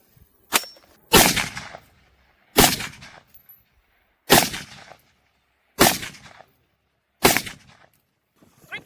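Loud gunshots from a shotgun test firing at a shield ring out one at a time, a small first shot followed by five sharp blasts at regular intervals, each trailing off in an echo.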